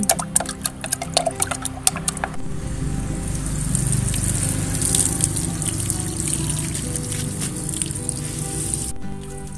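Water stirred with organic plant hormone in a container of about four to five litres, first a run of quick sharp clinks and splashes, then a steady close swishing and trickling as the mixture is mixed.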